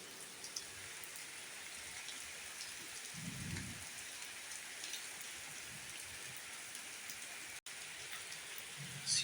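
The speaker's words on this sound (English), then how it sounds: "Here it's very heavy raining." Heavy rain pours down in a village, a dense continuous hiss of drops hitting surfaces with a faint low rumble of thunder partway through.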